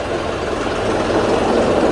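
A New Holland tractor engine idles steadily close by, a loud, even low rumble with no break and no voices over it.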